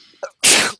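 A single sharp sneeze bursts out loudly and close, preceded by a brief intake of breath, during a talk recording.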